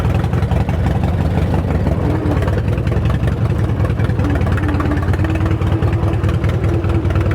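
Project car Dinky drives along with a loud, constant mid-pitched engine drone and low rumble, steady throughout with slight rises in pitch and no talking.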